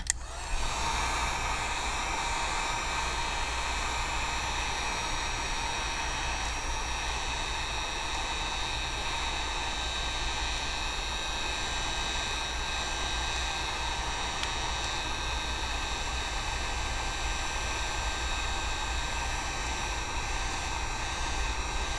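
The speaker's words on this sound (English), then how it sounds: "I'm keep moving my heat gun back and forth, back and forth" A heat gun blowing hot air on an iPad Mini 3 during a screen replacement, a constant whooshing roar with a faint steady motor whine that runs unbroken throughout, with no talking.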